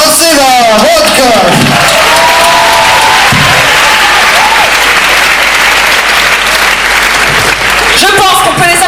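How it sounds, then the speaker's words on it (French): Loud, dense applause from an audience at an improv show, sustained clapping and cheering over several seconds with voices shouting at the start and end. "Je pense qu'on peut les applaudir encore plus fort que ça."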